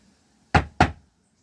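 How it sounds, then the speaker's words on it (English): Two sharp taps close together, a metal centre punch striking elm wood twice, with quiet before and after. "Then with a centre punch,"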